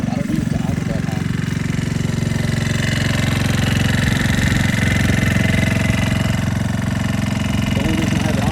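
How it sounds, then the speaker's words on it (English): A Talon GSX150 R2 motorcycle engine idles steadily and fairly loud up close, a continuous throbbing drone with someone talking over it in a garage-like setting. "I don't need it to idle that high."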